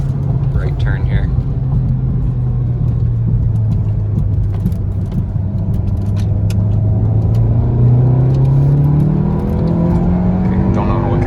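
A Volkswagen Golf R pulling hard on a race track, its engine note climbing steadily through the revs with a constant loud rumble and road roar, heard from inside the car.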